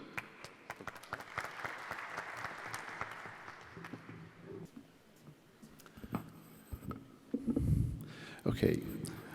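An audience at a medical conference applauds to welcome a speaker, a steady wash of clapping through the first several seconds that thins out as a voice begins speaking near the end.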